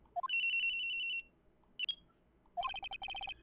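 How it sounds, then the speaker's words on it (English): Cell phone ringing in the Phoenix Wright courtroom game: a bright electronic ringtone plays a sustained tone, breaks off, gives a short chirp, then returns as a rapid pulsing trill, clear and close with no voices. "I received a call on my cell phone."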